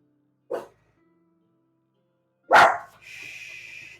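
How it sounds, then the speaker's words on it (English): A pet dog barks twice, a short sharp bark followed two seconds later by a louder, harsher one that trails into a lingering bright tail, with near silence between. "that's my dog bark"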